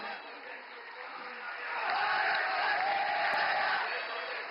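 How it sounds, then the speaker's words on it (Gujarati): Audience applause and cheering rise to a broad, steady roar welcoming dignitaries on stage at a Somnath temple event in India, swelling after the first second and holding loud to the end. "મંચસ્થ સર્વે મહાનુભાવોનું ખૂબ તાળીઓ સાથે સ્વાગત કરીએ."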